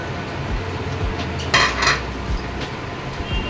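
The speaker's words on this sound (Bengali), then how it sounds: "পনিরটা দিয়ে মশলার সঙ্গে ভালো করে মিক্সিং করব" Paneer being stirred into masala in a pan for paneer butter masala, soft scraping with a few clear clinks of a metal spoon against the pan, close and alone.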